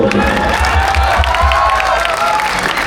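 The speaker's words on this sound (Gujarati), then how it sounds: "એના માટે એકવાર જોરદાર તાળીઓ" A large crowd at a Ganpati Utsav Garba celebration in Rajkot applauds and cheers loudly and continuously, with dense clapping, shouts and children's voices filling the space.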